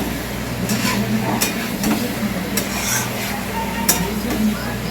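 Chicken with spices, ginger-garlic paste, potato, onion and green chili being stir-fried in a pan, a steady sizzle with repeated scraping stirs of the spatula, fairly close.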